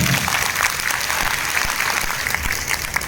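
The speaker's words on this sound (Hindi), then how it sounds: "अपने लिए एक बार जोर से तालियां बजा दीजिए।" Loud, sustained applause from an audience at a leadership development program in Katni, many hands clapping in a dense, continuous roar with no pauses across the whole stretch.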